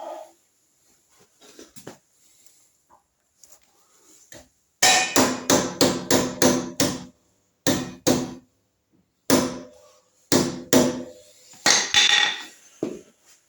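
Hammer blows drive a wheel spindle through on a Matchless Model X motorcycle: a few faint taps, then a fast run of sharp, loud metallic strikes, then several spaced single blows, with no talking.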